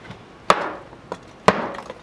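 A bigger hammer strikes an aluminum panel in two sharp, close impacts about a second apart, with a lighter knock between them, each hit ringing out briefly before fading.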